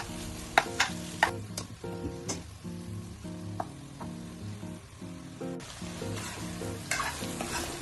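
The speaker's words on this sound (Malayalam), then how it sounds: "ഇനി സബോള ഗോൾഡൻ കളറായി വരുമ്പോൾ അതിലേക്ക് ചിക്കൻ ചേർത്ത് കൊടുത്ത് മിക്സ് ചെയ്യാം" Chicken fries and is stirred with golden-browned onions in a pan, giving a steady sizzle broken by repeated scraping and clanking strokes, with soft music playing underneath.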